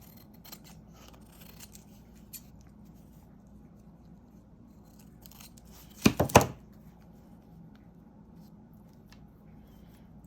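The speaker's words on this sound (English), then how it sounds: "I want to cut this side off like this." Scissors snip through paper while a junk journal tag is being made, a quick cluster of three or four sharp close cuts around the middle of an otherwise quiet tabletop scene.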